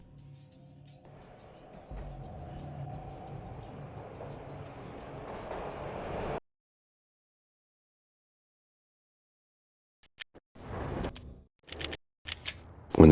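Game train from Max Payne rolling along with a steady rumbling clatter that stops abruptly, then after a pause a few sharp loud bangs and knocks follow close by.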